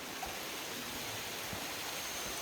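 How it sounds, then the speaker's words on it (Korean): Water rushes steadily through a narrow canyon near Deungseon waterfall, a soft, even broadband wash with no voices and no breaks. "협곡에 울려 퍼지는 청량한 물소리는 기분을 묘하게 만듭니다"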